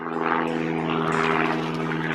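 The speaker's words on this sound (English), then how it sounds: "Do you hear the planes?" Propeller planes fly overhead in a steady, loud droning rumble with a deep, even engine hum that holds without a break.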